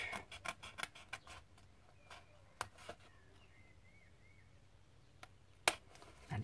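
Quick, crisp snips of scissors cutting paper, a rapid cluster of clicks at first, then scattered single cuts in a quiet room.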